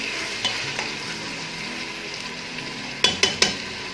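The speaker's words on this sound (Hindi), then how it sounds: "इसको जल्दी जल्दी से भूनेंगे ताकि हमारे प्याज भी ना जलें और टमाटर भी पक जाएं।" Onions and tomatoes frying on full heat, a steady close sizzle throughout, with faint stirring and three sharp spoon knocks on the pan near the end, no talking.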